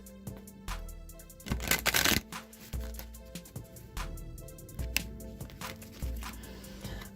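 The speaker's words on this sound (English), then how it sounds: "All right, one more shuffle." Tarot cards being shuffled by hand, a few riffles and soft slapping taps close up, with one louder burst of rapid flutter in the middle, quiet and without voices.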